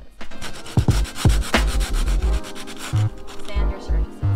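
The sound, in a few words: sanding a surface before fiberglassing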